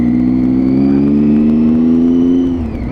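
A motorcycle engine running loud and close, holding a steady mid-pitched drone that eases slightly toward the end, with no talk over it.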